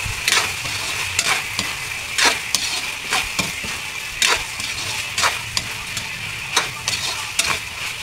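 A spatula scrapes and clacks in a steady rhythm while dinuguan pork stew with pepper and bay leaf sizzles in a pan, the close stirring strokes repeating throughout.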